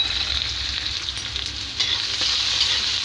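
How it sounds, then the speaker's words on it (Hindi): Chopped onions sizzle steadily in hot oil with whole spices, a close, continuous bright crackle and hiss with faint stirring, no voices. "अब मैं इसमें प्याज डालती हूँ"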